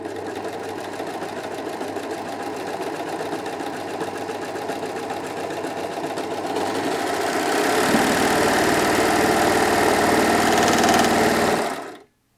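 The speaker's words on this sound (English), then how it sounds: "I'm going to go ahead now and sew a blind hem stitch." A Brother 2104D overlocker runs a blind hem stitch in a steady, fast mechanical chatter, close and continuous, growing louder partway through before stopping abruptly at the end.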